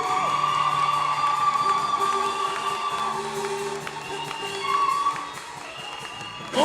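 A worship crowd cheers, whoops and ululates in praise of Jesus, with a steady wash of voices and scattered claps, loud throughout and swelling near the end.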